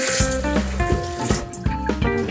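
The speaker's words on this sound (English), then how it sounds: "Let's wash my hands again." Tap water running into a kitchen sink while hands are washed during baking, a steady splashing stream close by with repeated rubbing and clattering touches throughout.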